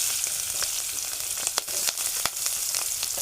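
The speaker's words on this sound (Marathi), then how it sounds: "आणि मिरच्या आणि कांदा हे मी आता फोडणीला टाकतो" Green chillies and onion hit hot tempering oil with cumin, mustard seeds and turmeric, a loud continuous sizzle broken by sharp crackling pops.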